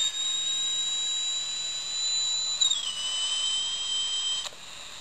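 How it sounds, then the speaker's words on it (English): A detuned AM radio in an Arduino metal detector gives a steady high heterodyne whistle, with a faint second tone above it. The pitch shifts downward partway through, then a brief click, all at moderate level with no talking. "Which is what I think it's called, a heterodyne whistle."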